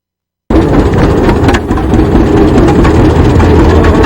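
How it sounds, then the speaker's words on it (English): Heavy engines on big trucks and farm tractors pulling weight at an agricultural pulling event, a loud continuous low roar that swells briefly, close and steady with no talk. "You might find some big trucks pulling some weight, and the big tractors are divided into how many weight classes"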